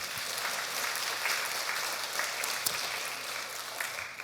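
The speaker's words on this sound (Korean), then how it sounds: "네, 일어나셨으니까 박수 한번 하십시다." A standing congregation applauding during a Sunday church service, a steady crowd of clapping hands heard at moderate volume for about four seconds, with no speech over it.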